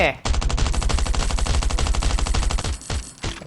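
Rapid continuous automatic gunfire in the survival video game Last Island of Survival, a loud unbroken burst of evenly spaced shots lasting nearly three seconds, then a pause and a few final bursts.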